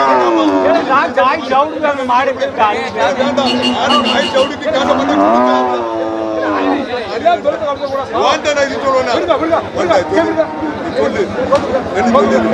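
Dairy cattle moo loudly and repeatedly at a busy open-air cattle market, long drawn-out calls rising over the constant chatter and bargaining of a crowd nearby.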